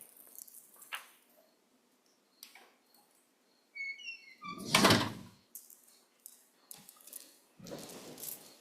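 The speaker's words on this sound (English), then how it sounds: "The door just blew open." A door blows open indoors with a sudden loud burst of rushing noise and a thunk, set among scattered faint knocks and soft shuffling sounds.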